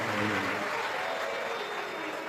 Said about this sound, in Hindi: एक बार सभी के लिए जोरदार ताली बजाकर साधुवाद वंदन